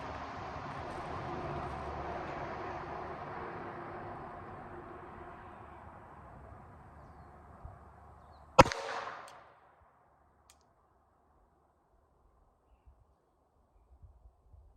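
A single sharp gunshot from a Jennings J-22 pistol cracks out once, loud and close, after a stretch of steady outdoor background noise, then quickly dies away into near silence.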